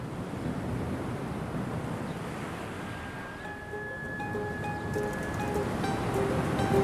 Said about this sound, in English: fell asleep to the sound of the waves